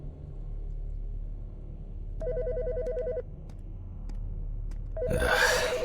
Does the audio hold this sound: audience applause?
no